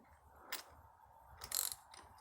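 A bolt threaded into a 1958 AMC Rambler Super engine, forced past a few damaged threads, gives a quiet mechanical ratcheting and clicking with two brief louder bursts of metallic grinding, close and with no voices.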